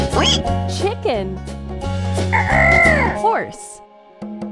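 A chicken sound effect in a farm-animal stacking game clucks and crows in a few quick bright calls, set against looping game music and chimes.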